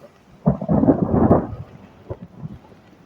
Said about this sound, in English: It's going to thunder again now.